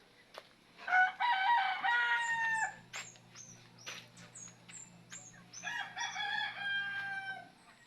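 Fighting roosters crow several times in a row, fairly faint and from a little distance, with occasional clucks in between.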